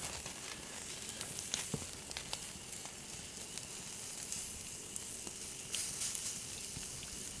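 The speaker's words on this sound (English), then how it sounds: "I'm going to go right over the flames for a couple seconds. Get a sear on it and then back it off." Meat sears over open campfire flames, a steady soft sizzle and hiss with light crackles and occasional pops, fairly quiet and alone.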